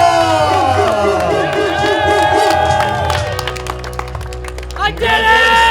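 Crowd cheering and applauding at a pogo stick freestyle contest, a loud continuous roar of voices and clapping with music and a voice talking over it throughout.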